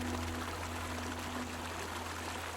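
Clear water rushing down a waterfall in a woodland clearing, a dense, continuous broadband roar that stays steady from start to finish with no voices.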